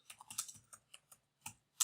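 Someone types a section title on a computer keyboard while working in LaTeX on Overleaf, a quiet, close sequence of separate key clicks in uneven bursts, about a dozen strikes with short pauses.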